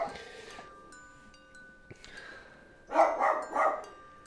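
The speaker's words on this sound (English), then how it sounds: "What you barking at?" A pet dog barks indoors at moderate distance, two quick barks near the end after a quieter stretch, with faint background noise and no talk.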